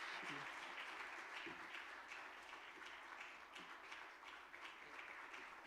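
A church congregation applauds after a deacon's retirement plaque is presented at a Sunday service, steady dense clapping filling the room throughout with no talk over it.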